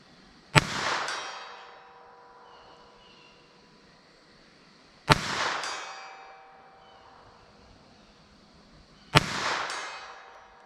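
Three sharp rimfire gunshots from Norma TAC-22 rounds fired into ballistic gel, spaced several seconds apart, each a crisp crack with a ringing, metallic tail that fades slowly between shots.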